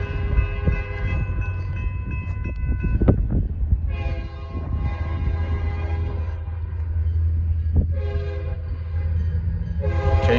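A Norfolk Southern freight train passing, with a southbound SD40-2 locomotive leading, sounding loud sustained multi-note horn blasts in several bursts over a constant low rumble of engine and rolling cars, close by and without talk.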